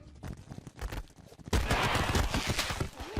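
Gunfire crackles in the video game Totally Accurate Battle Simulator, starting as scattered shots and then swelling midway into a dense, loud volley of rapid overlapping fire.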